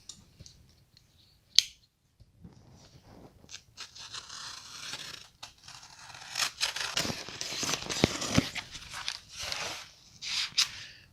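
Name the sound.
cutting open a cardboard box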